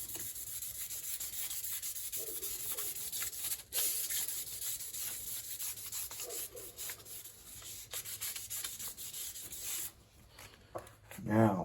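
A Damascus katana blade is rubbed with 1500 grit sandpaper in long, repeated, close scraping strokes that keep up a steady hiss, with a brief pause near the end.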